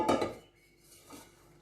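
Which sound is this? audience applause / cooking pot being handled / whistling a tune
cooking pot being handled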